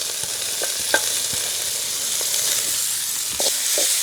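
Thinly sliced shallots, green chilies and curry leaves frying in hot oil, a loud continuous hiss and sizzle close by, with occasional light stirring knocks against the pan and a brief louder surge near the end.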